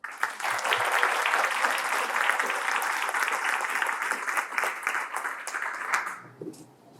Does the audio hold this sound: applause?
yes